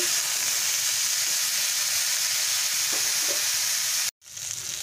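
Potato and cauliflower pieces fry in oil while being stirred, a dense, steady, loud sizzling hiss with faint scrapes that cuts out abruptly near the end and then resumes.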